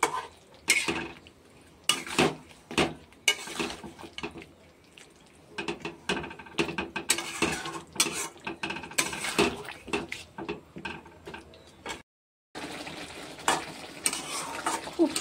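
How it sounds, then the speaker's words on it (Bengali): Fried chicken being stirred in a pan while cooking Hyderabadi chicken, with repeated metal clinks and scrapes of a spoon against cookware in uneven bursts over a low sizzle, close up, then a brief silent gap. "ভাজা চিকেনটা দিলাম, দিয়ে ভালো করে নেড়ে নিতে হবে।"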